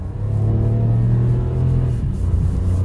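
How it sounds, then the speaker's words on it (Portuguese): A Hyundai HB20S 1.0 TGDI (2023/2024 Comfort) pulls hard under acceleration, its engine giving a strong, steady low rumble heard from inside the car, with a slight dip in pitch near the end. "Foi até jogado para trás com a aceleração dele."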